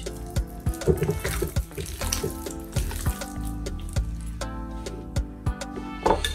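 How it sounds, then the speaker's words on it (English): Steak being washed under a running tap: water splashes and patters continuously into a sink, with irregular knocks and clatters of handling, close and fairly loud, with no speech. "Now I'm going to wash it and put the seasoning."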